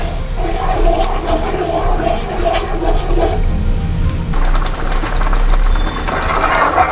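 A pot of horse gram kuzhambu, thinned with the horse gram cooking water, bubbles and simmers on the stove as a steady, dense, close rushing wash with no pauses.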